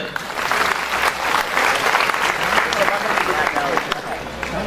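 An audience at a career guidance and student felicitation event claps loudly and steadily, a dense, sustained burst of applause filling the hall.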